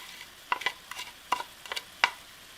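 Bacon and onions stirred into sizzling beef juices in a pan over medium-low heat, making a soft crackling sizzle with several brief stirring scrapes spaced through the moment, close and fairly quiet, with no talking.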